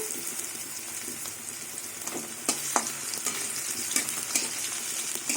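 Crushed garlic hits reddish-browned chopped onions in hot oil for a taro-leaf curry, giving a steady, close, bright sizzle with occasional stirring scrapes and louder spatters throughout.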